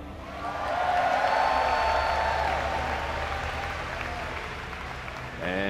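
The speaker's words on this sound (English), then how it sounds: "Let's hear it for Huk" Crowd applause at a StarCraft esports match, a broad wash of clapping that swells quickly, holds steady and slowly tapers, with a voice starting at the very end.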